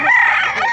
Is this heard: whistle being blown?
no